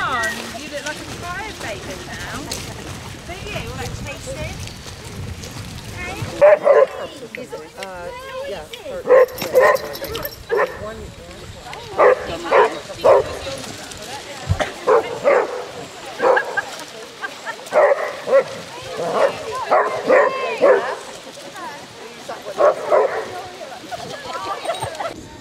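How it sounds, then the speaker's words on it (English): A basset hound swimming outdoors yips and barks in repeated short bursts. Close, excited voices are heard among the barks, and after a first stretch of wind or water noise, irregular sharp barks keep coming. "We've got a swimming basset."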